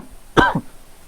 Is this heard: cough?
yes